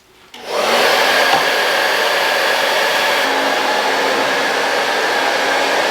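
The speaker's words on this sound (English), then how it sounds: "All you need is a hair dryer and then a little bit of time." A hair dryer switches on and runs with a steady, loud, close airy roar, used to heat carbon fiber ground-effect pieces during installation on a Toyota GR86, with no talk.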